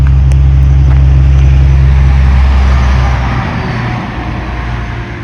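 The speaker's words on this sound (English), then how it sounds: "Wait for the truck to pass" A truck rolls past on a rural state-forest road in winter, a loud, deep engine and tire roar right up close that fades away as it moves off.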